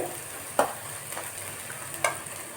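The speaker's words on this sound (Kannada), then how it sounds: "ಇದು ಸ್ವಲ್ಪ ಫ್ರೈ ಆಗಲಿ" Quiet sizzling of a tempering of spices with turmeric frying in a pan, with a few sharp scraping stirs cutting through the soft crackle.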